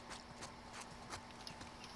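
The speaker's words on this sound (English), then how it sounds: "Alright, get back on Mr. Horsey." A horse's hooves clip-clop at a steady walking rhythm in the game The Last of Us 2, faint, with a low background hum.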